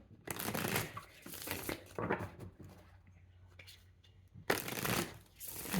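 Tarot cards being shuffled in quick riffling bursts, several rounds separated by brief pauses, close and fairly quiet.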